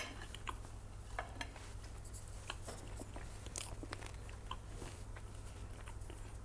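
Crunchy grilled bread of a flank steak sandwich being bitten and chewed up close, with several crisp crunching bursts over a low steady background hum and no talk.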